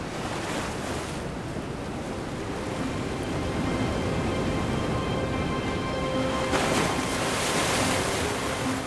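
Winter waves on the North Sea surge and crash steadily, a loud continuous roar of surf mixed with wind noise on the microphone, with no voices.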